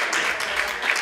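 Live audience applause for the freestyle rappers at a rap battle event, a dense wash of clapping that swells and fades over about a second with no voices.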